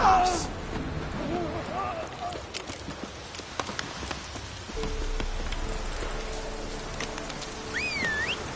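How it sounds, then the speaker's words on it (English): Steady rain falls in the open-world fantasy game The Witcher 3, a continuous wash of patter with scattered drop impacts and faint bird calls, heard at a moderate level and briefly overlapped by a voice. "Looks like rain."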